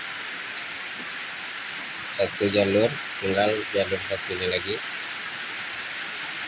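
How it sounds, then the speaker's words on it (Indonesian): Steady rain falls on a Tuesday afternoon near a mosque, a constant hiss running throughout while someone speaks briefly over it. "sekarang hari hujan di Selasa sore"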